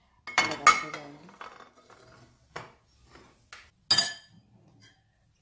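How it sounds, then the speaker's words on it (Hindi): Chillies and utensils clatter against a bowl in sharp clinks and knocks, loudest at the start then in scattered bursts, with quiet gaps between. "हम लोग ये एक बाउल लेंगे जिसमें हम लोग ऐसे ये भर भर के मिर्ची अपने लगाते जाएंगे।"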